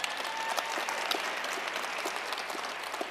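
An audience at a Nevada talk event applauds steadily for about three seconds, a dense, continuous wash of many hands clapping at moderate level with no voices over it.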